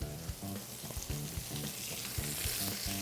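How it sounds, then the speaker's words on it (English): Squash and onions sizzle and crackle in hot bacon fat in a pan, a steady close frying hiss with regular clatters as they are stirred and tossed in, and no voices. "we're going to add our squash and our onions"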